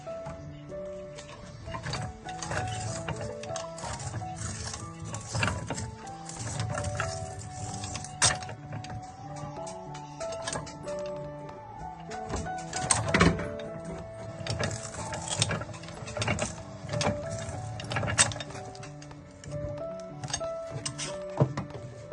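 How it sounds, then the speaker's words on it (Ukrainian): A small machine tool making shrapnel blanks runs in a workshop, giving off repeated clacking and mechanical knocks with a faint whine, fairly quiet and with no voice over it. "Станочок працює хорошо і його робота."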